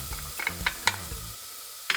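Chopped red pepper goes into a pan of frying garlic and shallot, giving a soft sizzle with several quick scraping stirs and clicks from the utensil, close and moderately quiet.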